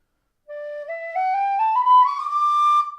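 A single tin whistle plays a rising stepwise run of notes with a breathy, full tone, clear and close, ending on a held high note.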